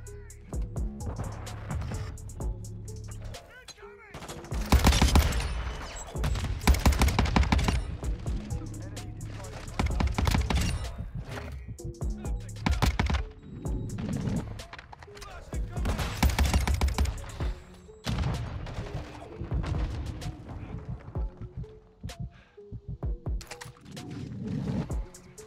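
Gunfire from the Cronen Squall rifle in Call of Duty: Modern Warfare 2. Repeated bursts of loud shots come in clusters over about 25 seconds, with pauses in between, mixed with game sounds and someone talking.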